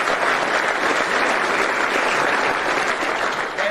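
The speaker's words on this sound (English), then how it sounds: "Please give them a big round of applause." A crowd at a football award ceremony claps in a thick, sustained wash of applause, many hands going at once at a steady loud level with no talk over it.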